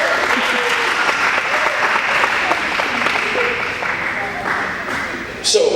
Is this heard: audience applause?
yes